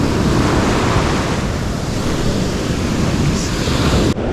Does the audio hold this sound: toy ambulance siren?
no